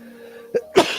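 A single sneeze, a sharp burst with a short gasp just before it, close and fairly loud against a quiet background hum.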